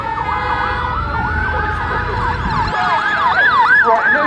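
A Scania fire engine wails its siren at a steam engine rally, the loud rising and falling tone sweeping repeatedly over rumbling engine noise, close by.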